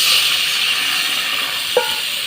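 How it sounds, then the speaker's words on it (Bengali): Water poured into a pan of sautéed turmeric and chilli spice paste for a tangra fish curry, heard as a steady, close hiss of steam and sizzle with a brief sharp splash burst near the end. "লঙ্কার গুঁড়ো 1 চামচ দিয়ে মশলাটা ভালো করে কষিয়ে নিয়ে এরপর একটু পরিমাণে জল দিয়ে দেবো।"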